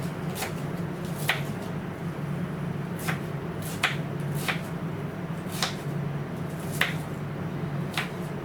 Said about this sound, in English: flatten the onion down again and do the same thing. Then you can cut it that way.